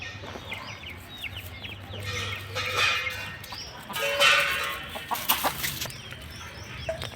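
A hen clucks in short, repeated bursts near a nesting spot lined with straw where it lays eggs, with a low steady hum underneath.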